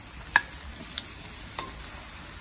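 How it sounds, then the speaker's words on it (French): A utensil stirs a tajine cooking on a barbecue, three faint clinks spaced evenly apart over a steady sizzling hiss. "je reviens pour mélanger"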